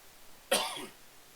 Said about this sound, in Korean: 이렇게 기침이 나네